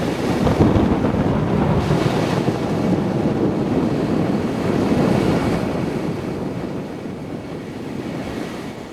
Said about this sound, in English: A storm is moving in from the west.